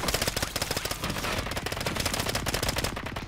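Rapid, dense gunfire from a video game shooter, bursts of automatic fire pounding continuously and loudly throughout with no pauses.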